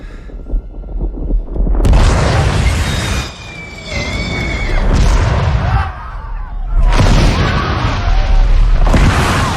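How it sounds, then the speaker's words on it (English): Huge explosion bursting up through underground tunnels in The Rings of Power, heard as heavy rumbling booms and roaring blasts that surge in several waves, loud and dense, with bright debris-like crackle on top. "Exploding up through the tunnels, isn't it?"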